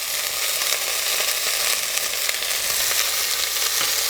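Celery, pearl onions and green beans sizzle in a pot for smoked chicken soup, a loud, dense, continuous frying hiss close up with faint stirring scrapes underneath.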